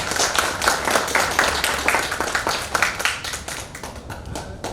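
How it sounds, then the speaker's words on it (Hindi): A seminar audience claps loudly to welcome new members into the group. Many hands beat fast and close together, then the clapping thins and softens toward the end, with almost no talk. "जोरदार तालियों से स्वागत करें कि हमारे परिवार में वो नए लोग हैं।"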